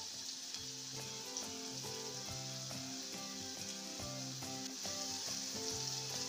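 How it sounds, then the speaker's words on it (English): Spices tossed into tomatoes frying in a pan for a simple egg curry give a steady, close sizzle throughout, with rhythmic stirring or tapping pulses layered on top and no talking. "we are going to add in our spices so that they can blend in and cook together"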